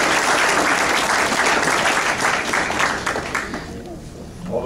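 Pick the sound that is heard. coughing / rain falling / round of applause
round of applause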